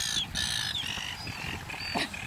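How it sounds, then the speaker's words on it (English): Loud seagulls calling repeatedly on Wollongong Beach, harsh overlapping squawks close by and continuous over outdoor background noise. "Some very loud seagulls."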